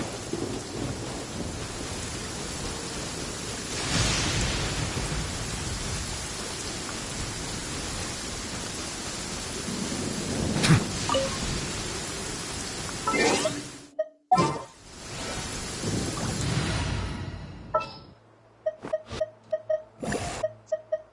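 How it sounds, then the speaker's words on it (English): Heavy rain and thunder in the Genshin Impact video game: a dense, steady downpour with deep rumbling thunder swelling and rolling throughout, then breaking into cut-off bursts near the end. "This heavy rain must be quite an inconvenience for you."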